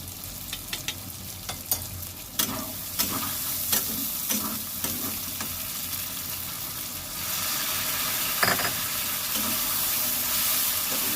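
Mustard paste is stirred into katla fish frying in a pan, with a run of distinct scraping stirs early on over a constant sizzle that grows fuller and steadier toward the end.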